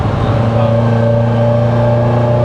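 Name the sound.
V8 car engine revving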